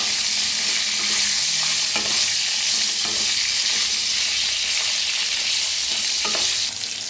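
Green chillies roast in a hot pan with a steady, loud sizzle that never stops. A spoon scrapes across the pan every few seconds.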